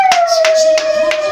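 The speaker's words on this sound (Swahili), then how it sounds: "Piga makofi mengi na vigelegele." A church congregation claps in loose rhythmic bursts during a Swahili deliverance prayer service, with a sustained steady tone running underneath the roughly four claps.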